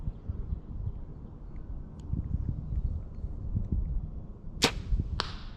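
Two arrows strike a 3D archery target outdoors, each a sharp sudden thwack with a brief tail, the second softer, after several seconds of low wind and faint shuffling.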